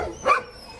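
A dog at an animal shelter gives one short bark, with faint kennel noise around it.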